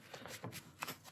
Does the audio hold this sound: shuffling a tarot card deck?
yes